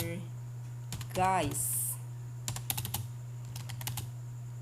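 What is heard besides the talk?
typing on a computer keyboard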